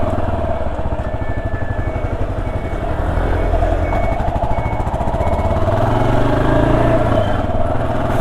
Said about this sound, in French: C'est tout doux, le moteur a un bruit génial, même si ici c'est pas l'échappement d'origine.